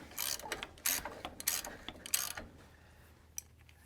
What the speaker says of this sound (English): 15/16 ratchet wrench is worth its weight just about in tightening stuff like this up